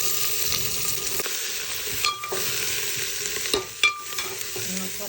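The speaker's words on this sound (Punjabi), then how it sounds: "ਹੁਣ ਤੇਲ ਬਣ ਗਿਆ ਹੁਣ ਇਹਦੇ ਵਿੱਚ ਆਪਾਂ ਪਿਆਜ਼ ਸਿੱਟ ਦੇਣਾ" Onions frying in hot oil in a home kitchen pan, a steady broadband sizzle with occasional stirring scrapes and clatter, close and continuous, no voices.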